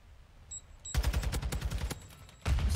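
Rapid gunfire in a Call of Duty match, a fast burst of close, punchy shots after a brief electronic tone, then a short pause and another loud burst at the end.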